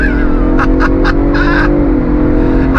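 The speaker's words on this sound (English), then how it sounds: "we are gonna go on throttle. On throttle, here we go." A 2023 Ford Bronco Raptor SUV in sport mode accelerates on throttle, a loud steady engine drone with a rising tonal whine sustained throughout, broken by brief brighter bursts near the middle.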